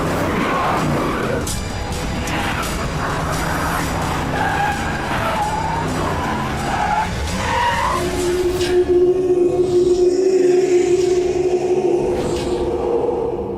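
A car pulls away with its tires skidding and squealing, a loud sustained screech of rubber and engine under busy film-scene sound.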